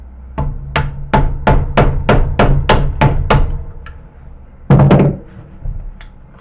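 A CRT television's deflection yoke is struck repeatedly with a hammer, about ten sharp, evenly spaced knocks, then a pause and one louder blow before a last faint tap, close and ringing with a hollow wooden thunk.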